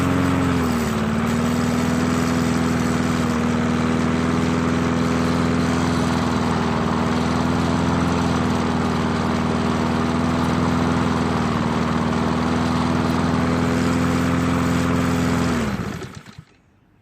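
A self-propelled lawn mower engine runs at a steady, loud, droning hum, close by and unbroken for a long stretch before it shuts off and winds down at the end.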